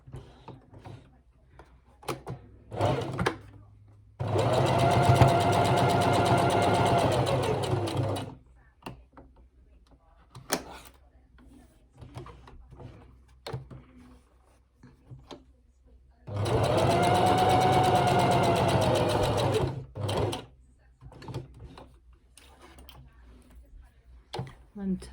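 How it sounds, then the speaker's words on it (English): Sewing machine stitching around the edges of dress pockets, two loud bursts of rapid stitching of several seconds each, separated by quieter handling noises and brief talk. "so now we take it to the machine and we sew around the 3 edges"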